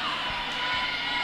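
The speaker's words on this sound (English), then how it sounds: "the crowd are very, very vocal for this game." Crowd at a roller derby game between Australia and Ireland, a constant roar of cheering and shouting voices that fills the whole moment without any break.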